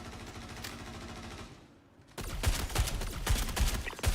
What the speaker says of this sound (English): this thing has a really weird firing cadence where it goes pop, pop, pop, pop, pop, pop, pop, pop, pop